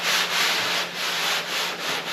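Sandpaper rubs rhythmically over a wooden scoop in steady back-and-forth strokes, each pass a close, loud, gritty swish with no talking.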